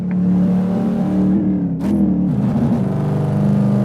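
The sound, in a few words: 1964 car engine revving in a racing video game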